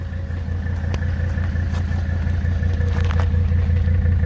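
A Mercedes 300TD W123 with the five-cylinder OM617 diesel engine idles close by, a loud, steady, thumpy low rumble with a rhythmic knock and no talk.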